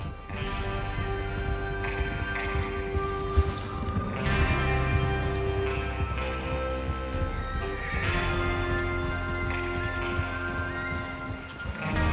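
Horses whinny and neigh repeatedly over a dense, loud musical score in Red Dead Redemption 2, with a faint clatter of hooves in the mix.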